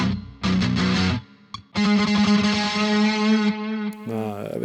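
A BOSS GX-100 processor drives a heavily distorted high-gain metal guitar with long space echo delay and studio reverb, playing chugging palm-muted riffs and sustained chords with brief gaps and trailing repeats.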